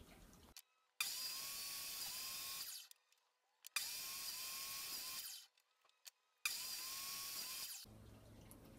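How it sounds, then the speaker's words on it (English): A table saw slices through a 2x4 on a crosscut sled in three loud, sustained passes, each a steady whining cut of a couple of seconds separated by brief pauses as the blade is raised. "I'm just going to slowly raise the blade up to different levels and pass it through on the table saw sled."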